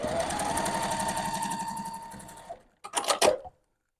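A sewing machine stitches a beginner quilt block with a steady rapid whir for about two and a half seconds, then stops and gives a few short bursts of clicking before falling silent.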